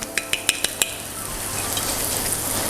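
Eggplant frying in a pan and stirred, a few sharp utensil taps on the pan followed by a steady close sizzle.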